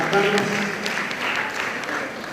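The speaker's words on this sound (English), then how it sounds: "Teresa Mutua, let us clap for her." Moderate clapping from an audience at a university ceremony as a student's name is read, light scattered claps under a faint voice, fairly soft overall.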